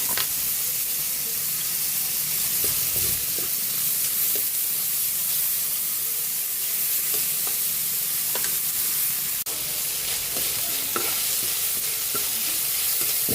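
Chopped tomato stirred and sautéed in a hot pan while ground meat is cooked, giving a steady close sizzle and frying hiss with soft scraping stir strokes throughout, no voices.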